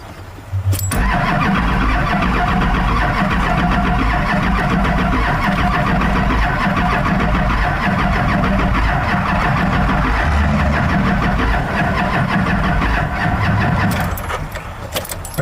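A Duramax diesel engine cranks over steadily for about fourteen seconds, loud and close, labouring slowly on weak, dying batteries, then stops without catching.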